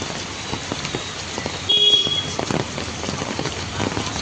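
Heavy monsoon rain pours down in a steady, close hiss, with a short tonal sound rising above the downpour partway through.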